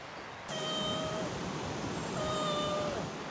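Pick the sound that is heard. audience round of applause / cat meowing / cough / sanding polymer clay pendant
cat meowing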